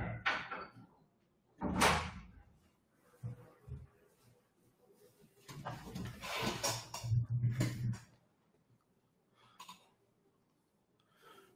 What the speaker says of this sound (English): give me a minute to close the door